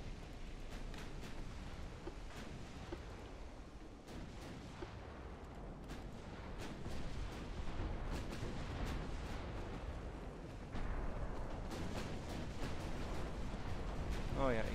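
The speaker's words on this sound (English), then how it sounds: "Start shooting at that now." Repeated booming naval gunfire in Ultimate Admirals: Dreadnoughts, a steady series of sharp reports over a low rumbling background, moderately loud, with a voice speaking over it.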